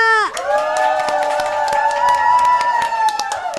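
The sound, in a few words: audience cheering and clapping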